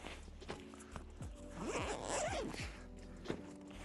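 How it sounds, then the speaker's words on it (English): A small camera bag's side zipper is drawn open in a few quick rasping pulls, close and fairly quiet, with light handling rustle around it. "It has this zipper that can open along the side or this top flap"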